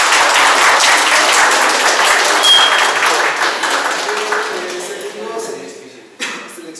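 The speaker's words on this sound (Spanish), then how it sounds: "Aplauso." Applause breaks out at a youth casting selection as a chosen participant is announced. The clapping is loud at first and tapers off gradually, with brief voices near the end.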